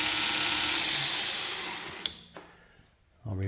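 A homemade 1x42 inch belt grinder runs with a loud, steady whirring hiss that slowly fades as it spins down, followed by a few clicks and quiet before a voice starts.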